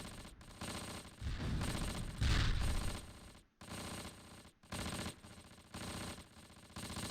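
Gunfire in the WWII tactical game Close Combat, a fog-bound armor and infantry battle: repeated bursts of machine-gun fire and shots, moderately loud, with brief pauses between volleys and no talk.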